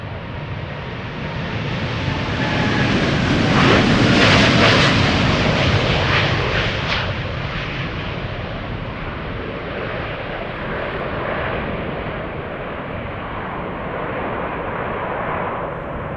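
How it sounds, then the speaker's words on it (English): A KLM Boeing 787-10 Dreamliner takes off at Schiphol, a broad jet roar swelling to a loud crackling peak early on and then easing into a long, steady rumble as it climbs away. "787-10 Dreamliner."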